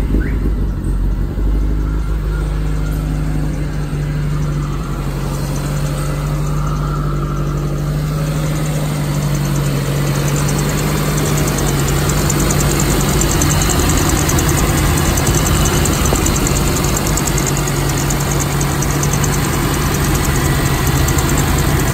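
A modified Maruti Gypsy's engine idles in neutral, a steady low rumble with constant vibration and even loudness throughout, close by and alone without talk.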